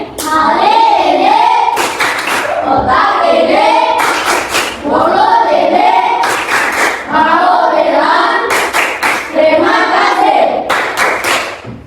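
Class of schoolchildren chanting a rhythmic clapping routine, voices rising and falling in a sing-song pattern punctuated by loud, sharp bursts of clapping that repeat in several cycles, close and energetic.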